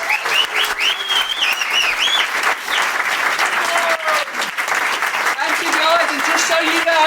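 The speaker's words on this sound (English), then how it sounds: "So please can have a massive round of applause for Ceylon." A large conference audience gives sustained applause for a speaker, dense and steady clapping throughout with occasional faint voices and cheers mixed in.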